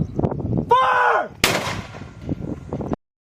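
Mortar rounds fired on a range during a US and Indonesian Marine exercise: a short spoken command, then a loud blast with a falling whistle, another sharp blast with a long rumbling tail, and more talk before it cuts off.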